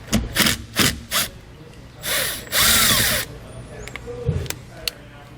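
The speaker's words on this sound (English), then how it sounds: "We're going to remove one of the nuts there with a 10mm socket." A 10mm socket on a power tool spinning off a nut from a battery terminal, several short whirring bursts followed by longer runs and a few small metallic clicks, close by.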